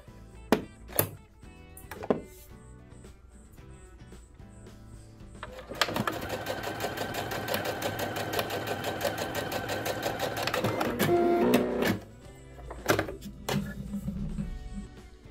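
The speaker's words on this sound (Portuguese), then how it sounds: "Agora eu vou alterar o comprimento da costura para o máximo, que é até 5 milímetros, e vou costurar novamente." A Singer SE9185 sewing machine stitches a straight seam at maximum 5 mm stitch length, a rapid mechanical chatter running steadily for about six seconds, bracketed by sharp clicks and knocks before and after.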